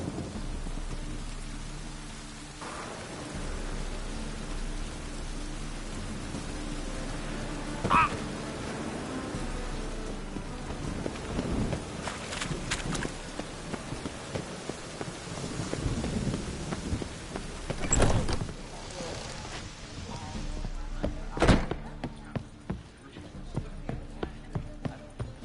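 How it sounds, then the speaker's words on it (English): Thunderstorm with rain falling steadily, loud rumbles of thunder and sharp cracks breaking through several times over about twenty-five seconds, with scattered drips on surfaces. "storm, damn it."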